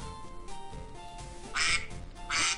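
A duck quacks twice in short, bright bursts over a steady background hum, fairly loud and close, with no talking over it.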